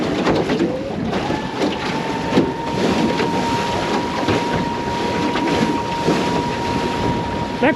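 Strong wind buffets the microphone continuously aboard a small boat running on an electric outboard at about 11 knots, with water rushing and splashing steadily beneath the gusts and no talk.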